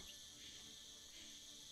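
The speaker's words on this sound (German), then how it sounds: "Es klingt, als ob das Grillenzirpen aus der Tanne kommt." A cricket chirps from inside a fir tree, a faint, steady high-pitched trill that continues without pause, quiet and somewhat distant.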